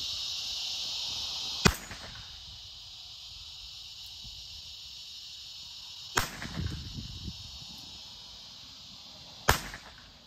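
An 1862 Colt Pocket Police .36 caliber five-shot revolver fires three sharp, loud shots several seconds apart, each with a short ringing decay, over a steady background hiss.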